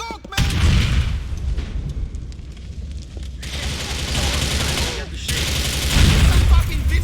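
Gunfire in the crime game GTA IV, heavy booming shots and bursts that come and go over several seconds, loud and close, with shouting voices mixed in.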